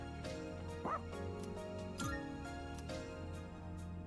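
Small dog barking and yipping in the video game Persona 3 Reload, a few sharp barks with a brief whimper over steady game music and ambience.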